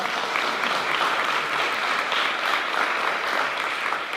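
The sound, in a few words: audience applause at board meeting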